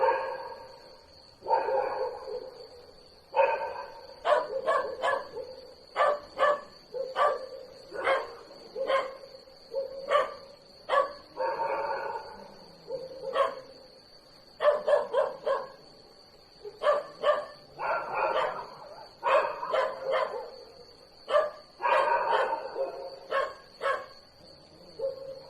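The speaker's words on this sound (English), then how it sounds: "Annoying dogs" Several dogs barking in repeated bursts, with clusters of sharp barks separated by short pauses, fairly close and loud against a steady high-pitched background tone.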